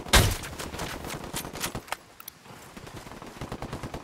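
Rapid bursts of automatic gunfire rattle in a Ghost Recon firefight, with a loud opening shot followed by steady, overlapping rounds at mid distance.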